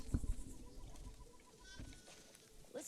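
Sheep bleating in The Last of Us Part II, a short faint bleat early on with soft ambient game noise and a few quieter animal calls trailing after.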